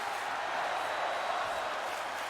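Crowd noise at a wrestling match, a steady, dense roar of cheering that holds at an even level for the whole stretch, broad and washy with no individual voices standing out.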